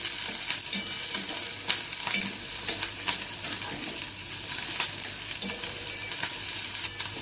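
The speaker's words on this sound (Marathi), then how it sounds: "तेल तापलं की त्यामध्ये कांदा, आपण कांदा परतून घेणार आहे, हलकासा परतणार आहे एकदम" Onion is lightly sautéed in a little hot oil in a kadai, a continuous close sizzle with intermittent scraping stirs of a spoon.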